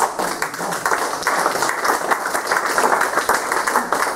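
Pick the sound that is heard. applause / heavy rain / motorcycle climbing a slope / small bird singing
applause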